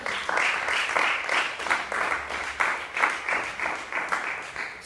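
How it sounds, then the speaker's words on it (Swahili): Steady applause and clapping from a church congregation during a Swahili-language sermon, a dense continuous wash of hands with slight swells and no voices over it. "Yesu makofi."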